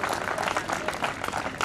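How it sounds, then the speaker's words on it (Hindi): An audience at a stage event claps steadily and loudly to welcome a guest, forming a dense, continuous burst of applause. "जोरदार तालियों से इनका स्वागत करिए।"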